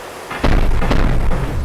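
Cannon fire on an armored craft in the naval combat game From the Depths: a loud, deep boom erupts and is followed by a second heavy blast, both rumbling on with a thick low-end roar.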